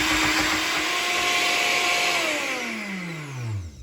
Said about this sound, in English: this blender didn't do so well with the chickpeas